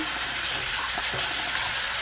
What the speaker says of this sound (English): I'm washing it with hot water.